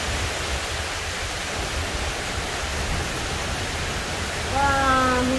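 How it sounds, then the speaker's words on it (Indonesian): Heavy rain pouring during strong wind, a loud, steady broadband hiss throughout, with a voice briefly speaking over it near the end. "Wah, hujan deras."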